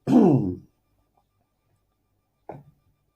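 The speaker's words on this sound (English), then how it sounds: "I just had to clear my throat there" A single loud throat clearing, followed after a pause of silence by a short, fainter throat sound.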